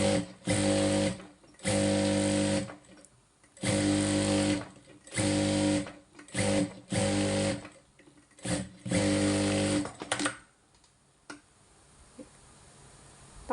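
A sewing machine stitches fabric sewn in a spiral in a series of loud, close bursts of varying length separated by brief pauses, ending in quieter background noise with faint clicks.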